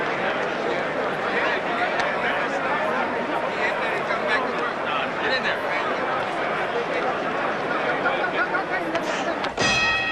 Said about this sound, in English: The bell for round 5.